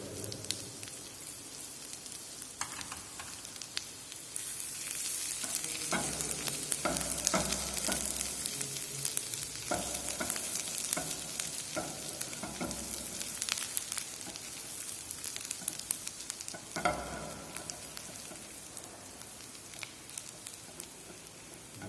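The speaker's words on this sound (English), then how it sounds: "Just saute it till the ginger garlic get translucent." Chopped ginger and garlic sauté in hot oil with a steady, rain-like sizzle, broken by the occasional scrape and clatter of stirring in the pan.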